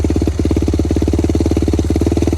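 Yamaha YFZ450 ATV engine running at low revs as the clutch is eased out, a loud, close, rapid even thump with a brief dip partway through, and no voices.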